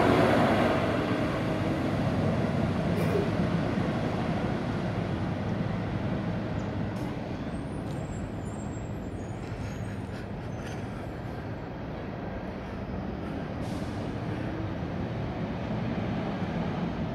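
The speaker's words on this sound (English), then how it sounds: "saw an empty hopper train going westbound." A Norfolk Southern freight train of empty hopper cars passes westbound, a steady broad roar and rattle that swells slightly and holds for the whole stretch without voices.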